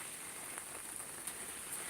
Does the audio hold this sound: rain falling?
yes